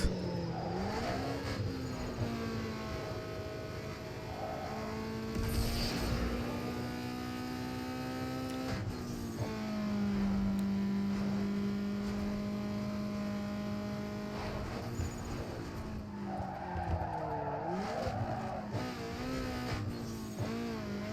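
Engines drone and rev through gear shifts in a street race in the video game Need for Speed Underground 2, with a loud, steady engine note that climbs and drops again and again and no talking.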